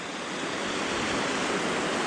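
The Little Sioux River, a Missouri River tributary, flows past with a steady, even rushing hiss, close and continuous, with nothing else heard over it.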